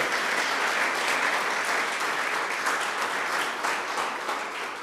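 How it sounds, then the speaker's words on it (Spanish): A church congregation applauds during a Sunday service, a dense, steady roar of clapping that holds loud throughout and eases slightly at the very end, with no voices standing out. "De un aplauso firme al Señor."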